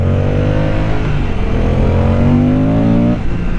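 A 2023 Moto Guzzi V100 Mandello, a shaft-drive bike, pulls hard under acceleration, its engine note climbing steadily in pitch, dropping briefly at a shift near the three-second mark, then rising again, loud and close with no voices.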